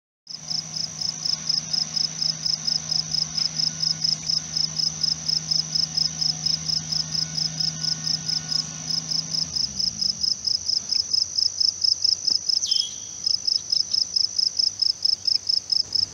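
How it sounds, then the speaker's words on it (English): Crickets chirp in a fast, steady pulsing trill that runs unbroken throughout, fairly close, with a low hum in the background fading partway through. "With crickets chirping so fast,"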